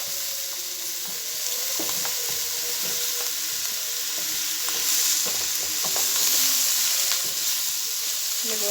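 About a kilo of chopped onions frying in a hot pan for kebab halla, a loud continuous sizzle with repeated scraping and clinking of stirring throughout.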